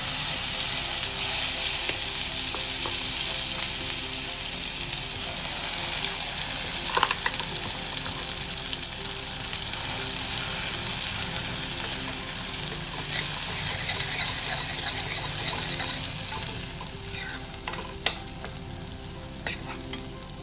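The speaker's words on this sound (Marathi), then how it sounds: "आता आपण यामध्ये मसाला भाजून घेणार आहोत." Kolhapuri-style masala sizzles and crackles in hot oil in a kadhai throughout, with the occasional scrape of a spoon stirring.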